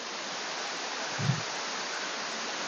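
Tat Mok waterfall in Phetchabun roars as a dense, steady wash of falling water, loud and unbroken, with one brief low thump near the middle.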